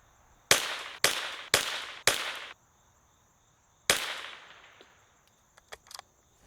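Tikka T1X rimfire rifle firing from its factory magazine: four sharp, evenly spaced shots, then a fifth after a pause, each loud and close with a brief ringing decay outdoors.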